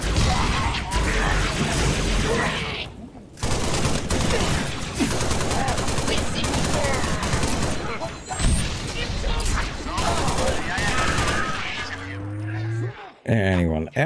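Sustained gunfire and clattering combat noise in Halo Reach, loud and busy with brief drops, over game music and effects, ending in a rising electronic tone.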